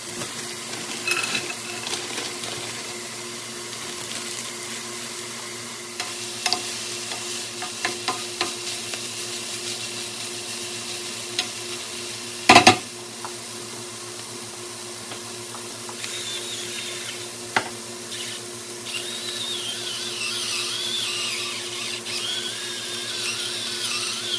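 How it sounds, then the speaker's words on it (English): Potatoes and bell peppers frying in olive oil in a pan on medium heat, a steady close sizzle with occasional stirring scrapes and one sharp clatter midway. "Now I'm going to cook the potatoes and bell peppers."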